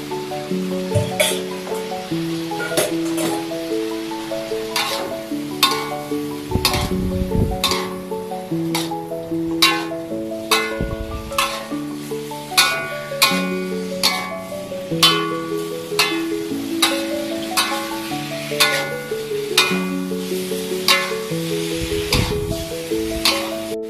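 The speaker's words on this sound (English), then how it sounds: "Put in the potato that I already boiled earlier." Boiled potato going into minced beef in a frying pan, with steady soft sizzling and repeated light clinks and scrapes of a utensil stirring against the pan.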